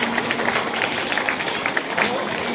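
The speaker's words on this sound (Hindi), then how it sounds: "ताली बजा के स्वागत करो भाई।" Applause welcoming a top student at a school annual function, a crowd clapping steadily and continuously throughout.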